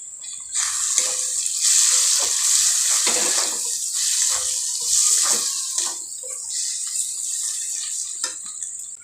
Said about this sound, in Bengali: আদা রসুনটা ভালোভাবে ভেজে নেব।